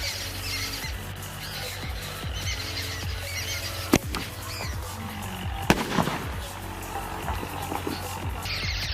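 Sky shot firecrackers during Diwali fireworks burst with two sharp, loud bangs a couple of seconds apart, with fainter crackles and pops scattered around them over a steady background hum.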